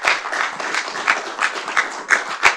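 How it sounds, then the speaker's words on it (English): Audience members at a Cocoa city council meeting clap in a lively, uneven burst, a room full of hands with sharper accents rising and falling, fairly close and loud, with no speech on top. "Go ahead and clap"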